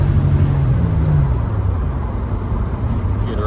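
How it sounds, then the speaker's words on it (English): A 1986 Buick Regal T-Type's turbo spools up while the car drives, a loud steady engine and road roar with a rising whine early on, settling into a constant drone. "I don't know if you guys can hear that turbo spooling up."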